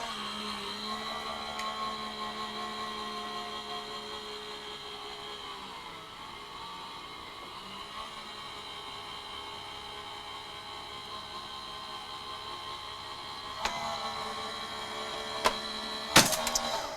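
A Gemini die-cutting machine runs steadily, cutting and embossing dies with a continuous motor hum that holds for most of the stretch, then gives way to a few sharp clicks and clunks near the end.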